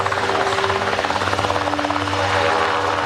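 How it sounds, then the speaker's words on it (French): Colombian Air Force military helicopters take off to search for a crashed airliner, their rotors giving a loud, close, rhythmic chopping with a steady engine drone and no talk. "Les premiers hélicoptères décollent pour tenter de localiser l'épave."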